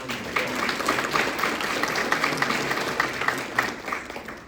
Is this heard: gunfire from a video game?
no